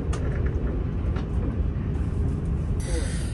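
Low rumbling of a train arriving slowly at Kurashiki station, steady and fairly close, with a brief hiss near the end.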